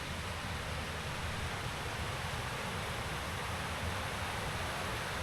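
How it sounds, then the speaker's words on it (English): A river in Scotland rushes steadily near a pipeline overflow, a dense, unbroken roar of flowing water close by with no pauses or voices. "River down here."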